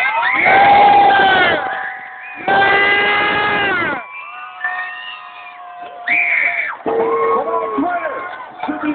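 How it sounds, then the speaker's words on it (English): Large arena crowd at a monster truck show cheers and whoops loudly for driver Gary Porter and his Gravedigger truck, in several sustained bursts with brief lulls, whistles and shouts mixed in. "I want you to cheer as loud as you can for the driver that deserves this trophy tonight"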